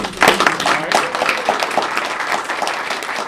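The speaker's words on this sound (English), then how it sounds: "let's give you a round of applause now," Audience applause for award winners at an evening awards event, a dense burst of many hands clapping that starts loud and settles into steady, sustained clapping close by.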